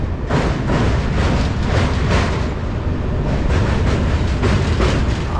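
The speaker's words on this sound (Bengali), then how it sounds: "ওপাশ থেকে একটা ট্রেন যাচ্ছে, দেখুন।" A train rolls across the Kolaghat bridge over a brimming river, heard from a nearby moving MEMU train: a loud, steady rumble with faint clattering throughout.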